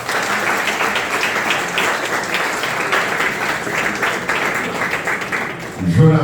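Audience at a live show claps steadily for a performer, a loud continuous wash of applause lasting the whole stretch, with a brief voice surfacing at the end.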